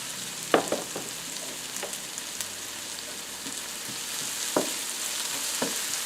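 Onions and ham sauteing in olive oil in a pan over medium-high heat, giving a steady close sizzle and crackle with occasional sharp pops and stirring clicks.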